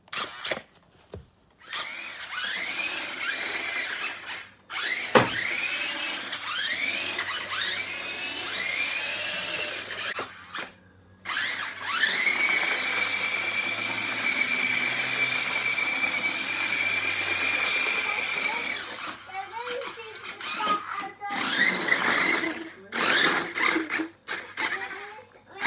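Nintendo Super Mario RC car whirring as it drives and spins around, a high electric motor whine that rises and falls in long runs broken by short pauses, close and loud.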